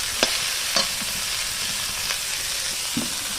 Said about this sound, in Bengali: চিচিঙ্গে ভাজা আমি লবণ দিয়ে দিচ্ছি,